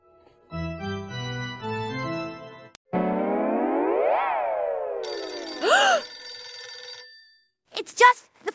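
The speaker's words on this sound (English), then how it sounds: "It's just the phone." Cartoon telephone ringing in a children's haunted house episode: a melodic ringtone with stepped tones, then a swooping echoing effect, a bright trill and short squeaky chirps at the end.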